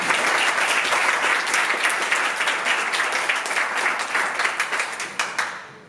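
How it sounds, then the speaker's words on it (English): Audience applause for a speaker at a tech talk, dense crowd clapping filling the room, loud and steady at first, then thinning into scattered individual claps before stopping. "Round of applause, please, to Pavel."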